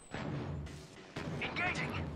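Video game shooter gunfire cracks out in two or three heavy bursts, close and loud, mixed with a character's voice.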